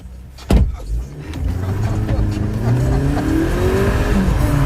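A car drives off and accelerates, a sharp thump near the start, then a rising engine whine that climbs in pitch as it speeds up, with faint background voices.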